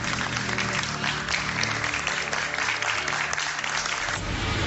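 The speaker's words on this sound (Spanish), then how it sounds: "Les vamos a dar un aplauso." Steady applause from an audience, dense and sustained clapping that fills the space evenly at close range, then thins out toward the end.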